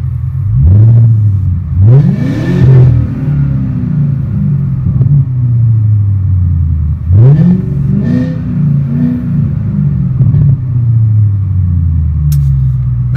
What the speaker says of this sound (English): But I'll rev it just so you guys can get an idea of what it sounds like